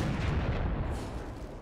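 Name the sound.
Napoleonic artillery fire in a video game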